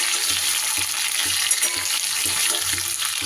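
Chopped capsicum sizzles loudly and continuously in a pan over high flame with spices and green chilli, a dense frying hiss with faint stirring knocks and no talking.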